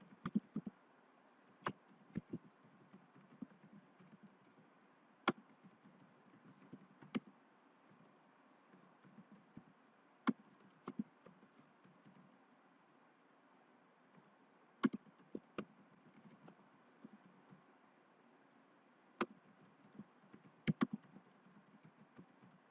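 Sparse, faint clicks of typing on a computer keyboard come in short scattered bursts over a quiet background, with long pauses between keystroke groups.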